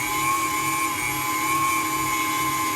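An electric stand mixer beating red velvet cake batter, a steady high motor whine with an even rotating hum, close and constant with no voices.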